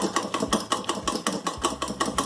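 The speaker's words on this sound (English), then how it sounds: "if not, then you can use a whisker and just whisk it like this" A black sesame ice cream mixture is whisked by hand in a bowl, giving quick, rhythmic clicking and scraping strokes, about five per second, up close and with no talk.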